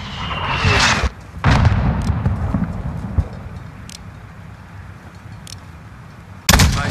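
Mortar fire and explosions in Call of Duty: Modern Warfare (2019), with heavy booming blasts at the start, a low rumbling aftermath with scattered distant pops, and another loud blast at the close.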